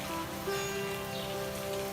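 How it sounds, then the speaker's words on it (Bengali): Heavy rain pours steadily, a dense continuous hiss of drops drumming on a surface with no voices. "বাইরে খুব সুন্দর একটি ওয়েদার, প্রচন্ড বৃষ্টি হচ্ছে"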